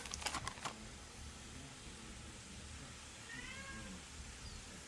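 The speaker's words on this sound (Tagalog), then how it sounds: "May napulot kaming pusa." A stray cat gives a few faint, thin meows near the end, after several quick sharp taps at the start. Low background noise runs throughout and no one speaks.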